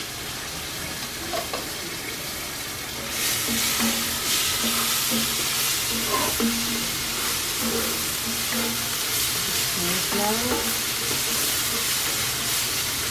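Garlic, ginger and chili paste fry in a pan in the Philippines with a loud, steady sizzle that swells after a few seconds, broken by occasional stirring clinks, close up.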